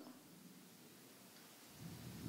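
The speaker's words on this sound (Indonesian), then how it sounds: "kalau ini tadi mungkin petir ya, tapi jauh" Distant thunder, a faint low rumble that swells toward the end beneath soft rain-like hiss, quiet and far away.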